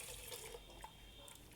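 Water runs steadily from a tap into a cooking pot for beef keema with kachnar, a continuous soft splashing and hiss with no talk.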